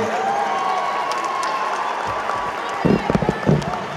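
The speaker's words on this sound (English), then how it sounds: "A round of applause for our valedictorian" Audience applause for the valedictorian at a college graduation ceremony, with scattered claps and crowd noise, building into louder bursts of clapping near the end, with voices mixed in.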